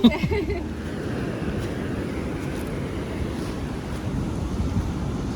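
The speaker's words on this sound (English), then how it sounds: "The waves are looking nice and strong today." Strong ocean waves breaking on the Philippine coastline, a broad continuous roar of surf mixed with heavy wind buffeting the microphone.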